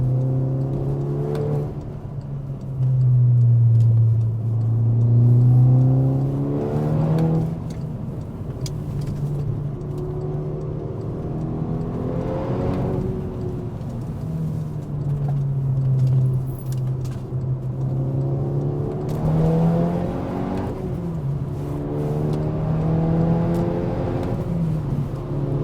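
An MK6 VW Golf R running a Unitronic Stage 2 tune accelerates in repeated pulls, the engine note rising in several sweeping revs with brief dips between gear changes, heard steadily from inside the car.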